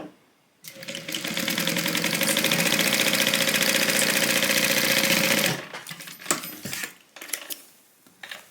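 Sewing machine running a 3/8 inch seam along the sides of a tote bag, a loud, steady rattling hum that stops abruptly and gives way to faint clicks and handling noises of the fabric.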